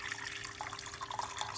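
Water poured into a pot for avocado seed tea, a steady close splashing stream with small bright gurgles and drips throughout, no talking.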